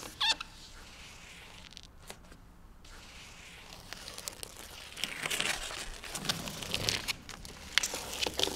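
A special corner sealing tape being worked into an inside corner between boards, producing close crinkling, tearing and squishing that grows busier and louder toward the end.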